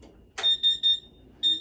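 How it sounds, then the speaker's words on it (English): A laser cutter's water chiller powering on with a flip switch: a soft click, then three quick high electronic beeps in a row, a short pause, and one more beep, loud and close in a quiet room. "You'll hear a beeping sound, that means it's turned on."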